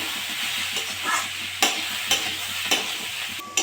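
Vegetable momo filling fries in a pan with salt and pepper, giving a continuous sizzle with a few sharp scrapes of a spoon being stirred through it.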